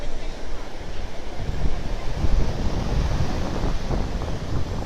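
Ocean waves wash at the shore under a southwest wind of about 12 miles an hour, giving a continuous noisy rush with wind buffeting the microphone and low surging swells.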